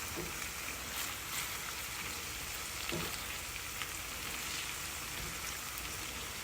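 Shrimp for seafood scampi frying in a pan, a steady close crackling sizzle with a few faint clicks of turning, no voices.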